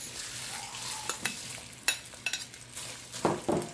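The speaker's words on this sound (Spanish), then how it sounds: "Voy a ponerle los chiles." Dried chiles hitting hot oil for salsa macha: bright, crackling sizzle with sharp pops and spatters, plus a few stirring scrapes, close and fairly loud.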